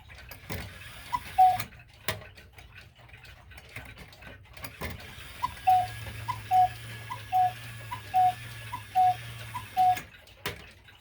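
A Маяк (Majak) cuckoo clock ticks in a steady, rhythmic tick-tock, with a run of regularly spaced pulses close by and a few sharper mechanical knocks in a quiet room.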